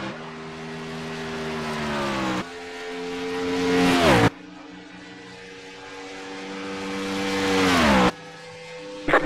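A car engine in a racing video game revving up repeatedly, each rise in pitch climbing steadily before cutting off abruptly, with three loud, close acceleration pulls in a row.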